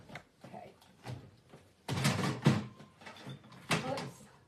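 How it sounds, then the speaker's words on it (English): Craft paper punches clatter as they are knocked over on a crafting table: scattered light knocks, then a louder burst of rattling, tumbling hard objects and a few more clunks, close by. "Knocking all my punches over."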